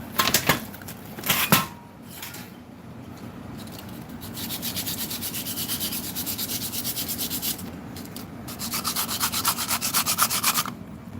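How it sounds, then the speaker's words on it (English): Sandpaper rubs back and forth on a 90s Chevy seat, a close, steady scratchy rasp in rhythmic strokes running several seconds, after a couple of sharper scrapes at the start. "We got a sandpaper right here."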